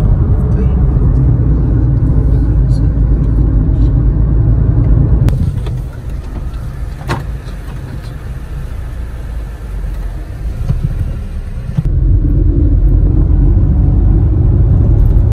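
Car driving on a road toward Gujranwala, a steady loud interior road rumble that drops and changes character for several seconds midway before returning, with no talk over it.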